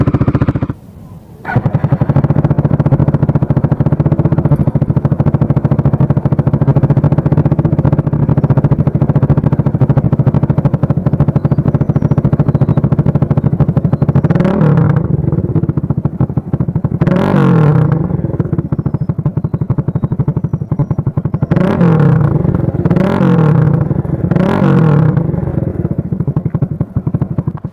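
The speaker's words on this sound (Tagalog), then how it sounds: "So yun guys, yun yung tunog ng SC Project ko na may silencer" A Sigma 250cc sport motorcycle fitted with an SC Project exhaust and silencer idles loudly and steadily, broken by a quick cut and then several sharp throttle revs in a cluster toward the end.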